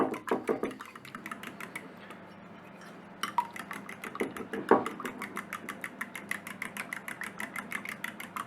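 A fork or whisk beats eggs, cream, salt, pepper and Cajun spices for a quiche filling, quick regular clinks against a bowl after a short pause.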